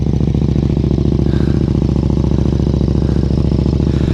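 A KTM RC8 sport motorcycle with a Jester exhaust runs loud and close, with a deep, rapid, uneven V-twin throb pulsing steadily throughout.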